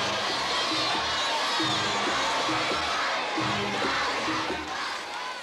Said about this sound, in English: the crowd shouts for more